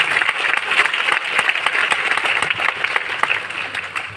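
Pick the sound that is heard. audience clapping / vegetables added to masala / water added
audience clapping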